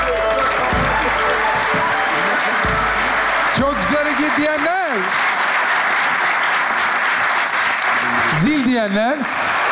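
Studio audience applause on a Turkish television game show, a steady wash of clapping running the whole time beneath animated talk and sung or exclaimed voices from the hosts.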